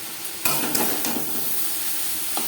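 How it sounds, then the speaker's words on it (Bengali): A spoon scrapes and taps in a pan while turmeric powder is mixed into grated coconut and yardlong beans over medium flame, with a sharp knock at the start, a few clinks, and faint sizzling beneath. "নারকেল ও বরবটির সাথে হলুদের গুঁড়ো বেশ ভালো করে মিক্স করে দেবো"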